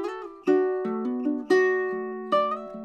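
A recording played from a CD: plucked ukulele notes and strummed chords play a lively melody, with sharp attacks roughly every half second ringing out close and clear.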